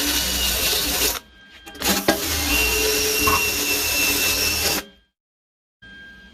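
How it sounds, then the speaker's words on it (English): Power drill fitted with a wire brush scrubbing the front frame rail of a 1969 Mustang fastback, a harsh abrasive whir in long bursts with brief stops, then silence before restarting. "I'm going to use the drill with the wire brush"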